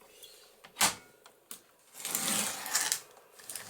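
Scissors cutting off a damaged strip of vellum paper at a craft table: a couple of sharp snips followed by a longer rustling, crisp slicing sound, close and fairly quiet.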